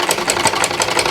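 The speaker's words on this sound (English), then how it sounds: "So I'm going to go gently. I keep sewing" A sewing machine stitching a side slant pocket runs steadily, its needle clicking in a quick, even rhythm close by, loud and alone.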